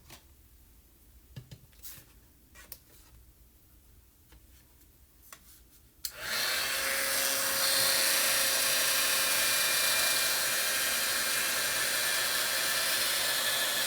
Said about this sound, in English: let me bring in my heat tool